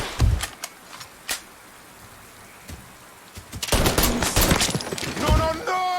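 Gunfire in Mafia III, a few sharp isolated shots followed by a heavy sustained burst of rapid firing, as in a close firefight, with shouting voices over it.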